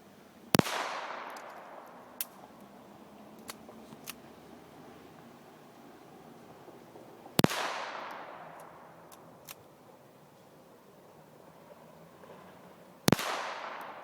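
A .22 pistol fires sub-sonic rounds outdoors, three sharp, loud shots spaced several seconds apart, each with a short decaying echo, plus a few faint clicks between them.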